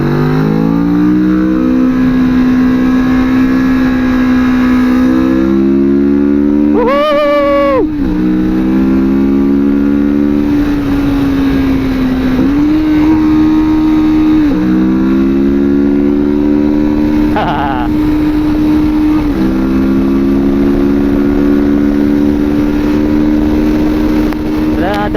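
A Kawasaki Vulcan S 650 cruiser motorcycle drones loud and close under heavy wind rush, its engine pitch rising and dropping as gears shift down. A voice is heard briefly.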